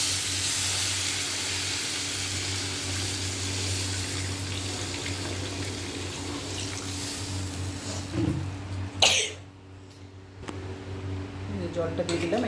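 Water tipped into a hot pan of fried Bengali spice paste, giving a steady close hiss and bubbling that surges briefly near the end; a voice talks underneath.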